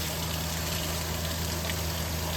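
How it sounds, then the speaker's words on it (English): Water runs steadily through a GE Superthrust air conditioner to flush out coil cleaner and debris, a continuous broadband gush with a low steady hum underneath, close and even throughout with no talking. "Making sure we flush all the coil cleaner out and any debris that might have gotten stuck"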